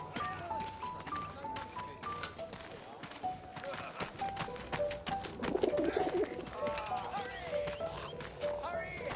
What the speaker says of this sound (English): Send the pigeon to Raphael's face